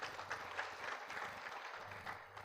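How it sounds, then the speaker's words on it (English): An audience at an annual general meeting claps to welcome the CEO, a steady, moderately distant wash of applause with no talking. "A clap for Mr. Bernard Mbogo as he comes"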